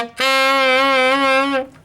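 A single sustained D on a tenor saxophone, fingered with the front key in the altissimo range, a clear reedy tone with slight wavering held for about a second and a half, close and alone.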